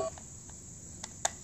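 A phone sounds a few sparse, short dialing beeps, faint and clean against a quiet room.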